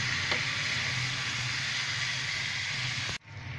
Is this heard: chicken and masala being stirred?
yes